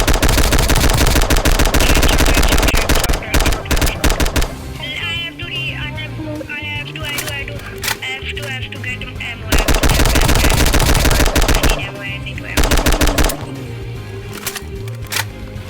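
Rapid automatic gunfire from a Roblox game at an airport, loud bursts of machine-gun fire with pauses in between where quieter clicks and game sounds come through.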